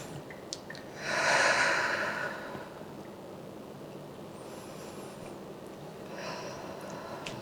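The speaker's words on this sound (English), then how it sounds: "2 more deep breaths." During a vinyasa yoga flow, a deep audible breath rushes in and out, a long exhale around the second mark followed by a quieter second breath a few seconds later, close and alone.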